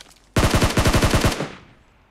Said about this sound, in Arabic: شوت جان يستعمل. انا قلت لكم ما احب شوت جان